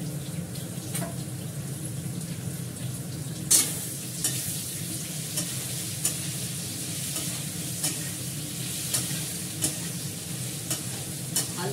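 Chandramukhi potatoes frying in a pan and being stirred, a steady close sizzle broken by repeated sharp scraping strokes of the spoon, with no voices.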